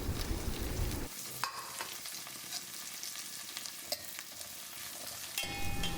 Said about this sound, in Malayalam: അതിലോട്ട് നമുക്ക് അരിഞ്ഞു വെച്ചേക്കുന്ന കൊച്ചുള്ളിയും കൂടെ ചേർക്കാം